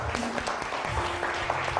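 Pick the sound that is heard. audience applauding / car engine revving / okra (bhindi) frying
audience applauding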